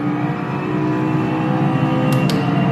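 A V8 race car engine in Automobilista 2 drones steadily and loud throughout, with a constant mid-range tone and no clear shifts.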